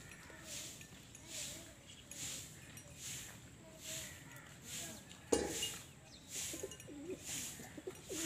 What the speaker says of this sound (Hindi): कबूतर अच्छा है